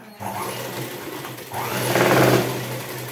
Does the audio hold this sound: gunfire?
no